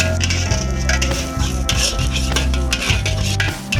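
Egg fried rice cooks in a pan with rhythmic scraping and clinking from a spatula stirring against the metal, close and steady, over a low sizzle.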